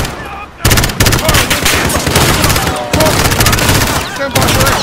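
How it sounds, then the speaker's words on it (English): Rapid gunfire in the Call of Duty: Modern Warfare video game, dense bursts of automatic shots and fusillades that start after a brief lull, continue loudly, pause briefly near the end, then resume, with faint voices mixed underneath. "The gunshots, of course."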